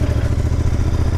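Royal Enfield Interceptor 650 twin-cylinder motorcycle engine running in steady rhythmic pulses, loud and close, a continuous mid-pitched throb with a faint clatter over a brief stretch.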